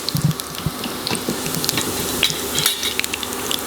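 Cumin, fenugreek and oregano seeds frying in hot oil, a steady close sizzle with scattered small pops and crackles throughout, no voices.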